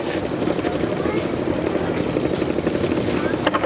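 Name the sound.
old fur sewing machine running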